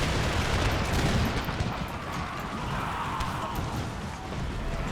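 Massed gunfire and artillery rumble in a large Empire: Total War battle, a dense, continuous roar of musket and cannon fire that stays loud and crackling throughout.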